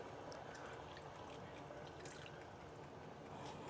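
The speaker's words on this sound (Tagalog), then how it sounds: "lalagyan na natin siya ng tubig" Water is poured and trickles into pork dinuguan cooking in a pot, a steady soft splashing and dribbling close by, fairly quiet and continuous with no talk.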